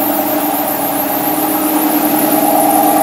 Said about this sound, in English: Good old compressor kicking on there.